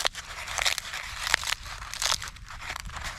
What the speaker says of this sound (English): when they're dry like this, you basically just crunch it